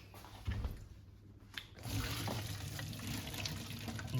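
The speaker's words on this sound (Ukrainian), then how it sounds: "Зливаємо воду і можна дегустувати." Pasta water pouring and splashing into a sink as it is drained, faint at first and then a steady rushing stream, heard from a little distance.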